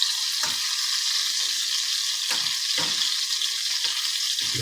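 Seafood boil cooking over a fire gives off a loud, steady sizzle and hiss, with a few soft stirring knocks and bumps underneath and no voices.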